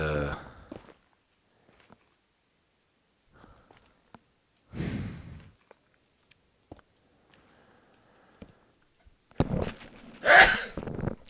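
Several sharp bursts of sneezing separated by long quiet gaps, one midway and a louder double burst near the end, with faint breathing between.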